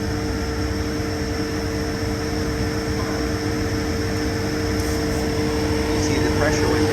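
Car A/C refrigerant rushes through an opened service valve, making a steady, close hiss that holds without a break.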